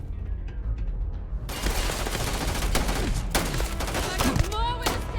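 Rapid gunfire in the video game Starfield erupts in dense bursts and loud cracks after a brief quieter opening, with shouting voices mixed in.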